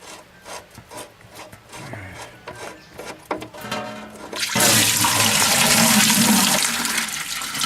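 Coolant drains from an L10 engine into a bucket. Scraping and rubbing sounds come first, then a loud, steady gush of pouring liquid starts partway through and runs on to the end.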